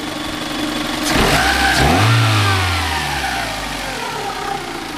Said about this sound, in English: Try and give her a rev if I can.